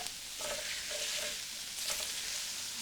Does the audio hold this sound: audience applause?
no